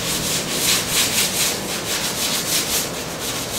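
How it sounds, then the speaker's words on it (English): Steady back-and-forth rasping of coarse sandpaper on a surface, loud and close, in an even rhythm of strokes. "get a sandpaper and sand it with a rough sandpaper"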